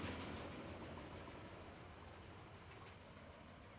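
Norfolk Southern train 169 rolls past on the Greenville District, with two Southern Railway cars at the rear. A steady, close rumble of wheels on rail fades slightly toward the end, with no voices.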